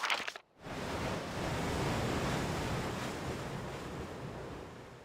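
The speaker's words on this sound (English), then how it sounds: "Crashing waves." Loud crashing surf from the ocean in EverQuest 2, a steady, continuous roar of breaking waves with wind noise, briefly cut near the start and then sustained without voices.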